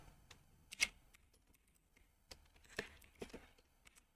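Faint, sparse clicks of keys being pressed on a computer keyboard during quiet typing, coming as irregular light taps with a few sharper clacks, close by and with no talking.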